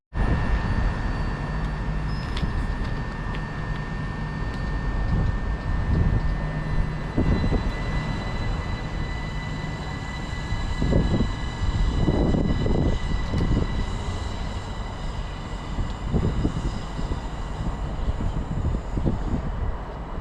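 A passenger train rolls past a station platform in Kent, a continuous loud rumbling roar with rhythmic wheel clatter building in the middle and a steady electric whine running throughout, heard for about twenty seconds without talk.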